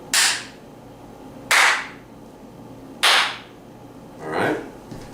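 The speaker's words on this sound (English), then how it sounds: "Now listen to my hand clap" Three sharp, loud hand claps spaced about a second and a half apart in a small room, each with a short ringing tail, followed by a softer, more diffuse fourth impact.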